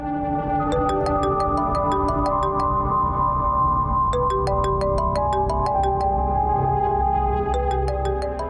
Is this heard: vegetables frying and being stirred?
no